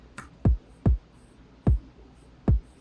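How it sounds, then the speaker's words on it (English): Four rounded hip hop kick drum hits thump alone at an uneven, spaced rhythm, deep and punchy with a faint hiss between them. "Rounded hip hop kick"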